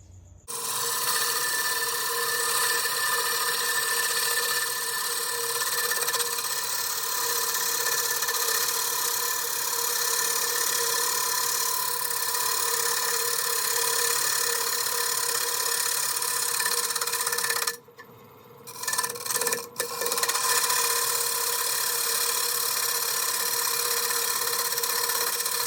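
A scraper works a camphor wood salad bowl turning on a lathe, making a continuous rough, rasping scrape over a steady machine hum, with a brief break and a few short strokes near the end.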